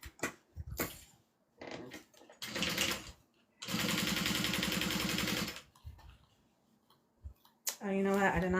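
A Juki domestic sewing machine stitching vinyl over a zipper pocket runs in short bursts, then one long steady stretch of rapid stitching, with quiet pauses and faint sounds between runs.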